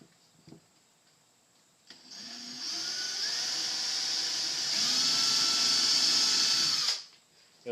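A power drill whines as it bores holes into a PVC audio tube, starting with a short burst, then a sustained, rising high-pitched drone lasting about five seconds before cutting off abruptly.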